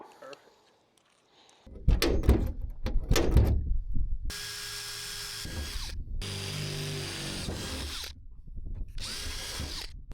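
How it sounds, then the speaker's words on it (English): Short loud bursts of a power drill boring a small pilot hole in a van roof, broken by thumps and pauses, followed by a longer whirring run; voices can be heard between the drilling. "start with a small bit here for a pilot hole"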